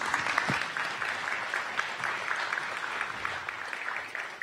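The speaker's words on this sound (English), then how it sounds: "Give them a round of applause" A Sherwood State of the City audience applauds the panelists with steady, moderately distant clapping that holds at an even level throughout.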